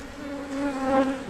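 Honey bees from a populous colony buzz during a hive inspection, a steady close droning hum that swells slightly midway, with no voices.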